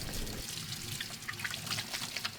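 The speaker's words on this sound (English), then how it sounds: "Now what I gotta do, I gotta wash my hand." Hands are washed under running water from a tap, a short soft splash and trickle close by with light dripping, quiet and without speech.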